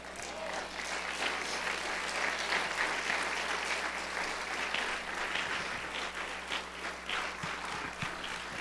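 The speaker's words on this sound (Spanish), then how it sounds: "Demos un aplauso al Señor" A church congregation applauds during a sermon, sustained dense clapping from many people that holds steady for several seconds with no speech over it.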